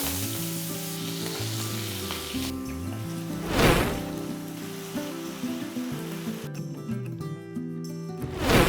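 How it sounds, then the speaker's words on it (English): Potatoes shallow-frying in a few tablespoons of oil in a pan for Indian street-food aloo, giving a continuous loud, close sizzle with occasional stirring scrapes and crackles throughout and no talking. "first I'm going to shallow fry the potatoes"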